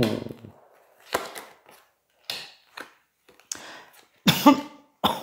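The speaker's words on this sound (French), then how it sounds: "J'en tousse." A woman's coughing fit indoors: several sharp, separated coughs and a throat-clearing burst, fairly close and loud, with short gaps of silence between them and no talk over them.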